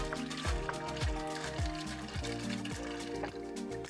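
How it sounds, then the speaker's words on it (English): A gallon of distilled water pours steadily into a garden sprayer, a continuous gurgling flow with rhythmic glugging pulses as the liquid fills it up. "So now I'm just going to add in a gallon of distilled water."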